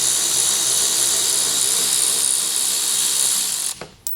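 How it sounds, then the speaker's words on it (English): A ratchet clicks rapidly and continuously while backing out a Torx T40 bolt from the front bumper of a Tesla Model Y Juniper, loud and close, stopping near the end with a couple of sharp knocks. "we're going to go ahead and change our tool to the Torx 40, the T40, and then we're going to go ahead and remove this"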